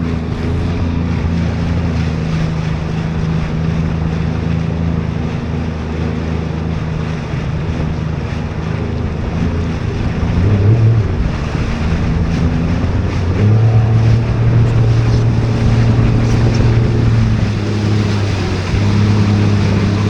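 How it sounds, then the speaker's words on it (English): A river ferry running between Perth and South Perth passes on the water, its engine a steady low drone that swells slightly midway, with wind buffeting the microphone throughout. "So this is the ferry that goes over to South Perth, but one's just left."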